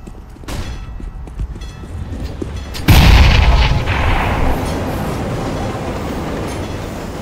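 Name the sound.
flashbang grenade exploding in CS:GO video game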